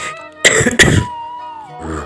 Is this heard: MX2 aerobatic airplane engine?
no